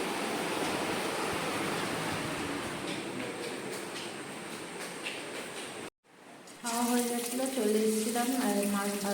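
Fish fries in hot oil with a close, steady sizzle and crackle for several seconds, then the sound cuts out and a voice starts talking.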